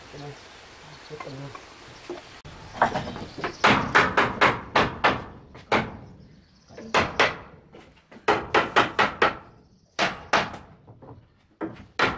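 Nails being hammered into wooden boards on a log cabin build, a series of sharp close hammer blows in quick bursts of several strikes with short pauses between, and a voice briefly audible.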